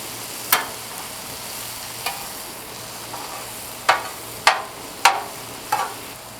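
Cold rice reheating on a Blackstone griddle, a steady low sizzle broken by several sharp scraping clacks of a spatula on the flat steel, close by.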